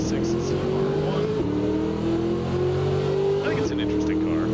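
Chevrolet Corvette C6 ZR1 race car screaming at high revs through a Daytona race, engine pitch climbing steadily with two abrupt gear-shift drops, loud and close with faint tire squeal at the edges, voice talking over it.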